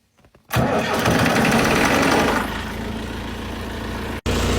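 A tractor engine cranks from its key and start button, then catches and settles into a loud, steady idle close by, with a brief cutout near the end before the running sound resumes.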